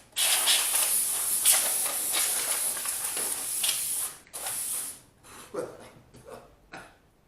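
Compressed air blasts dust out of a desktop computer in long, loud hissing sprays for about five seconds, then breaks into shorter, quieter bursts with gaps between them.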